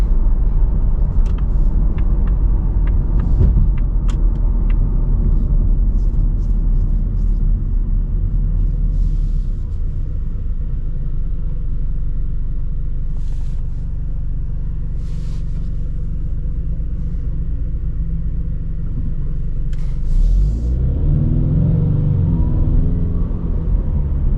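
Continuous low engine and road rumble from inside a moving Ford Mustang with a turbocharged 2.3-liter four-cylinder EcoBoost engine, steady and loud, shifting near the end as the engine note rises.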